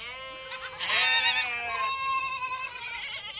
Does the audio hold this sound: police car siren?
no